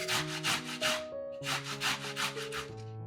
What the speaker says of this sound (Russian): 1-2 вареных морковки точно так же,